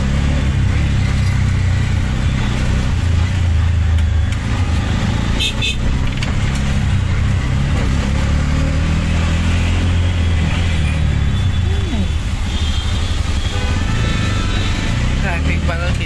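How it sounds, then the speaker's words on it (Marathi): Loud road traffic on the way to an airport, with car and motorcycle engines idling and revving close by in a steady unbroken drone; a voice speaks briefly over it. "ट्रॅफिक बघा किती दाजी"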